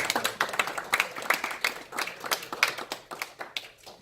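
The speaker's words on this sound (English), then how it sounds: "So another big round of applause for her" A small audience at a lecture event gives a round of applause, scattered close hand claps in an uneven patter that tapers off toward the end.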